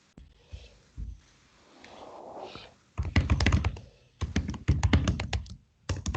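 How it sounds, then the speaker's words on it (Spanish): Someone types on a computer keyboard over an open microphone during an online webinar, with brief clicks and breathy noise at first, then dense bursts of rapid, loud keystrokes close to the mic. "Hay alguien que está escribiendo en el teclado y se oye mucho"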